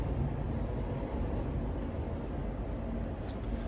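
A London train pulling away toward Maidenhead, heard from inside the carriage as a steady low rumble and rolling hum that holds even throughout.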